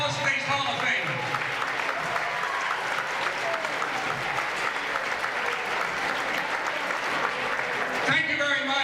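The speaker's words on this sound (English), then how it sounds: "How about a round of applause for these Hall of Famers?" A gym crowd at a high school Hall of Fame ceremony during a boys varsity basketball game applauds steadily for inductees, with voices mixed into the clapping before it fades near the end.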